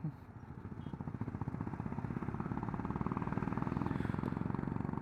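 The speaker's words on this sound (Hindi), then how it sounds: "I love this exhaust man." A touring motorcycle's exhaust rumbles close by with a steady, fast-pulsing putter that rises slightly in pace and loudness, a continuous engine drone with no speech.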